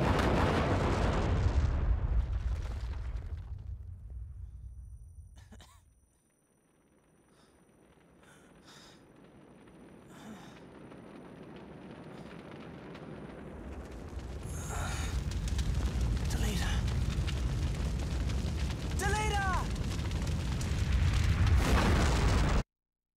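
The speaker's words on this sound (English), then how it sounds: "I think I remember the explosion being a lot bigger in the original" A large explosion in the video game Final Fantasy Tactics: a loud, broad blast that fades into quiet, then a second long roaring rumble with crackling bursts and whistling debris builds and stays loud to the end.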